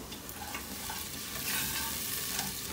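Onions sizzle steadily in a hot pan while a utensil stirs and scrapes through them, a close, continuous crackle with a brief louder swell partway through.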